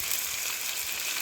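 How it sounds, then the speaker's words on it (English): Tomato, ginger and garlic frying in oil for a curry, a steady close hiss and sizzle throughout the short stretch with no talking. "Tomato I'll use now, and ginger garlic. I will let all this fry now."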